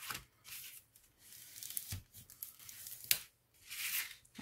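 Scrapbooking paper is creased and folded into a small pouch, with close, dry swishes and crinkling rubs arriving in several separate strokes, fairly quiet and without voices.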